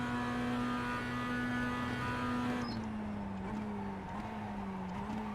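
Mazda MX-5 Cup race cars circulating on track, a steady engine drone heard from inside the cockpit that dips slightly with a brief tone and small pitch steps as the car brakes and rolls through a corner.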